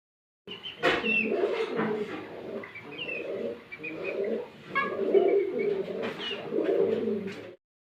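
A pair of big Bombay kadam-juri pigeons coo repeatedly in low, throaty rolling phrases, close and fairly soft, with faint chirps above.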